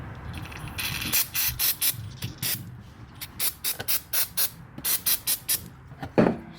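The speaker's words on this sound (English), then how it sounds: "while I spray in there a little." A series of short aerosol cleaner spray bursts into the throttle body of a 2001 Chevy Tahoe, roughly a dozen quick hisses in uneven rhythm, close and fairly loud, with a brief pause midway.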